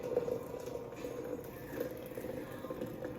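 Water bubbles and simmers as it boils for French press coffee, a steady low churning with faint pops and a soft continuous hiss throughout.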